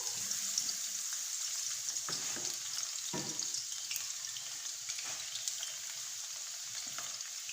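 Garlic sizzles in hot oil for a mustard greens saag tadka, a steady bright crackle with occasional stirring scrapes and clinks, moderately close and without talk.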